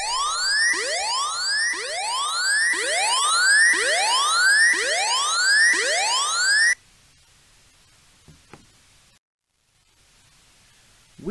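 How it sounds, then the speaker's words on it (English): School lockdown panic blue-button alarm: a loud electronic sweeping whoop tone rising repeatedly in quick, even cycles for several seconds, then cutting off to near silence. "or the panic blue button alarm will sound"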